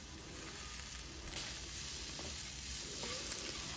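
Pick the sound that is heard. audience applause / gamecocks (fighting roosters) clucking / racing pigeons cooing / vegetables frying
vegetables frying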